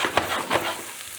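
Garlic frying in a pan over careful heat for a pasta dish with radicchio, giving a soft continuous sizzle with a few brief stirring scrapes, close and alone.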